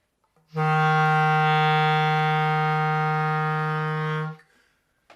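A clarinet holds one low, reedy note from its lowest register, steady and fairly loud for about four seconds before it stops cleanly.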